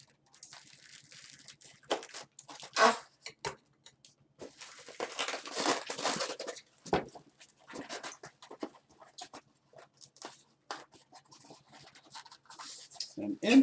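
Scissors cutting open styrofoam packaging while unboxing a Street Fighter V Collector's Edition, close scratchy snips, crinkles and rubbing in irregular bursts, with a voice speaking at times.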